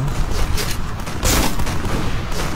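Gunfire in the shooter game Point Blank, a loud rumbling burst of shots and booms with a dense, muffled battle texture throughout, no voice over it.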